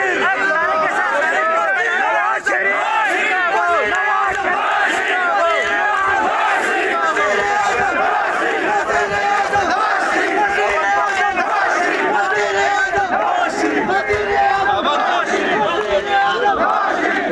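A large crowd at a political gathering in Gilgit-Baltistan chants slogans loudly and in unison, a dense continuous roar of rhythmic shouted calls and responses lasting the whole time.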